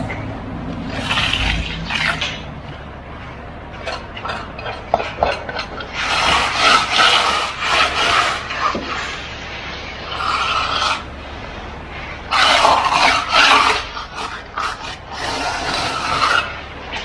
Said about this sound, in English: Scrape everything clean.